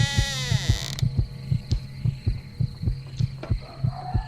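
A heartbeat effect in the Roblox game Survive the Night thumps in a steady, close, low double beat, following a short electronic sweep at the start.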